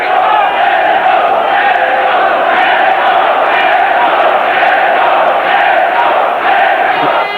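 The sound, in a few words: sell-out boxing crowd cheering in Vienna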